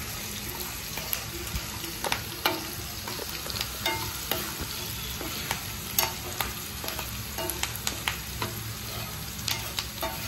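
Onions with salt frying in a pan, a steady close sizzle with scattered clinks and scrapes of stirring spread through, alone with no talk.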